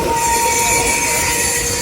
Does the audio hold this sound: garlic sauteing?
no